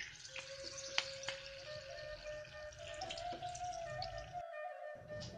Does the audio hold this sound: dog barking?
no